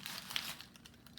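Paper being crumpled by hand to bulk out a clay bust armature, a short close crinkling burst with no talk.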